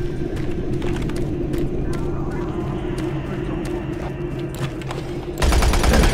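Automatic weapon firing in the video game Doom 3 BFG: rapid, repeated shots and clatter mixed with game effects, a louder rumbling surge near the end, and someone talking over it.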